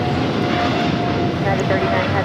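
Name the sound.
DHL Polar Air Cargo Boeing 777 freighter taking off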